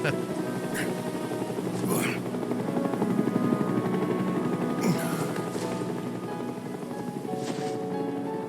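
In Final Fantasy VII Rebirth, Shinra aircraft hover overhead with a continuous whirring engine drone under game music and ambience, while a voice speaks briefly over the scene.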